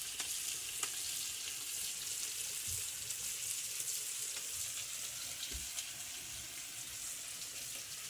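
Olive oil sizzling steadily in a pan after sausage was cooked, a soft constant hiss with a few faint clicks and bumps, no talking.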